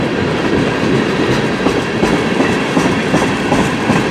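A CN M399 westbound freight train rolls past in Port Huron, Michigan, a steady loud rumble with rhythmic clickety-clack of wheels over rail joints, close by and continuous with no voices.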